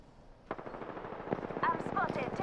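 Rapid automatic gunfire from the shooter video game Apex Legends during an arena match, bursts of close, sharp shots running continuously through the clip with game effects layered over it.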